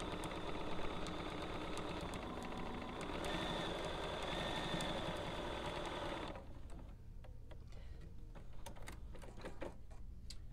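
A sewing machine quilting down a travel pillow runs with a steady, dense whir for about six seconds, then stops, leaving faint clicks and handling noises.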